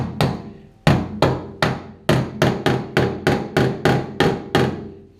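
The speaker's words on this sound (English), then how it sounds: "I took my body hammer where I'd been hitting where that body filler was" Repeated sharp metallic body hammer blows on the body-filled quarter panel of a 1966 Ford Galaxie 500 convertible, about a dozen strikes in a steady rhythm, loud and close with no talking.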